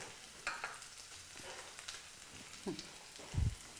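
Onions frying in a pan on a home cooking show, with a steady soft sizzle broken by a few scraping stirs from a spatula, the loudest stroke near the end.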